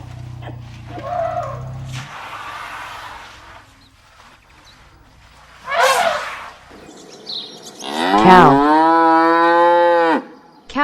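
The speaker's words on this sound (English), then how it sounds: "Cow." A cow moos loudly and close by in a long drawn-out low call near the end, after a few shorter animal and bird calls, with no talking.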